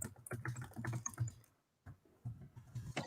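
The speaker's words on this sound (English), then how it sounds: "Sorry about the typing. I know it's loud" Fast, irregular typing on a computer keyboard in a home setting, a run of loud clicks with a brief pause before the keystrokes resume, heard alone.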